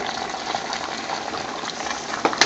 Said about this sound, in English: Mix all these spices together